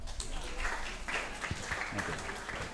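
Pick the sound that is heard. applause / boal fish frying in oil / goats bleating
applause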